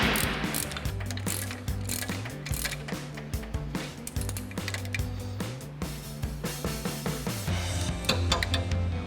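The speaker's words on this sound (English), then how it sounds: "Then we'll tighten that back down. Again with our 19mm ratchet wrench and our 5/16 wrench." A 19mm ratchet wrench tightens a strut top hat nut on a 2024-2025 Toyota Tacoma Ironman 4x4 lift kit, giving close, rapid clicking bursts in repeated strokes.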